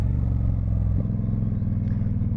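A Honda VT1100 Shadow Ace motorcycle's V-twin engine idles steadily close by, a loud, even low rumble with a slight lift in pace partway through and no voices.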